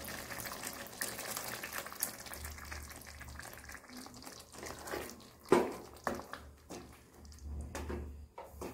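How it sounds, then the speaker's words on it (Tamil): Tamarind water poured into a simmering brinjal gravy in a pot, with liquid splashing and trickling sounds, a sharp clatter midway, and soft kitchen bubbling around it. "இப்போ நம்ம புளி தண்ணி ஊற்றிக்கலாம்."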